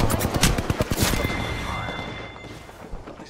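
Rapid gunfire in the video game Apex Legends, a burst of sharp repeated shots near and loud at the start, fading into a softer tail with ringing tones.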